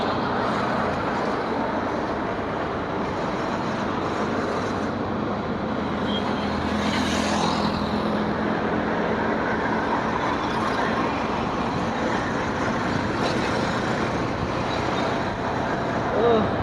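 A vehicle driving along a road, a steady dense rumble of engine and road noise that holds level throughout, with faint voices now and then.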